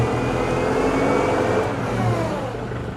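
A Kubota L6060 tractor with a hydrostatic transmission reversing, its engine a loud, steady diesel drone with a rising transmission whine, close and continuous, easing slightly toward the end.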